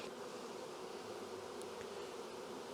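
Honey bees buzz steadily on frames pulled from a hive for queen cell checks, a soft uniform drone lasting the whole stretch without speech.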